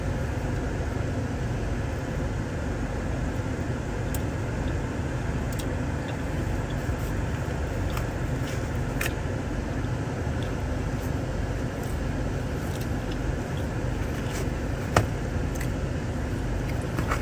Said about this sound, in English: I'm in the car right now